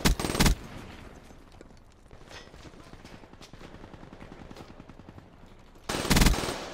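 Gunfire from a weapon in a first-person shooter video game, with loud bursts at the start and end and a quieter rattle of continuous fire between them.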